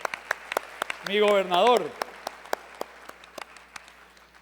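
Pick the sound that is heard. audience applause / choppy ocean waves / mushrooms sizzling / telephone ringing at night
audience applause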